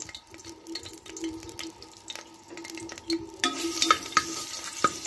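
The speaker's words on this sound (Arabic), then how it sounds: "هنزل بالثوم المفروم" Minced garlic sizzling in ghee in a pan, a steady close frying hiss with stirring scrapes and a few sharp utensil clicks, getting louder and brighter toward the end.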